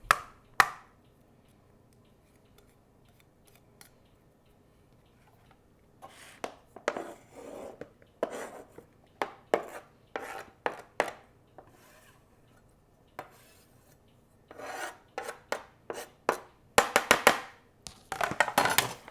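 Knife rough-chopping boiled eggs on a cutting board, scattered soft taps at first, then quicker clusters of close, crisp chops building toward the end, with no talking.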